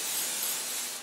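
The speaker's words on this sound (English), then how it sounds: "I am going to take some Pam, spray the inside of my loaf pan" Pam cooking spray hisses steadily into a loaf pan in a home kitchen, one continuous close burst about a second long that tapers off at the end.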